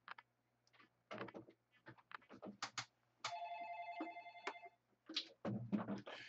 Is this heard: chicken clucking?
no